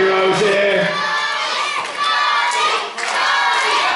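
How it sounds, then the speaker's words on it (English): A large boxing-arena crowd roars and cheers behind boxer Jonny Rose, a dense, continuous wall of shouting voices with swells and a brief dip near the end. "Crowd there right behind Jonny Rose here"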